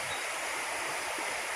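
Brown floodwater rushing past a bridge in the countryside after a night of heavy rain, a dense continuous roar of flowing water close by with no voices.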